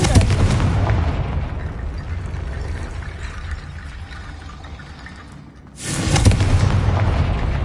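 A Confringo blasting spell goes off in Hogwarts Legacy, a loud sustained rumbling blast that fades briefly and then bursts again with a second heavy explosion, over game music.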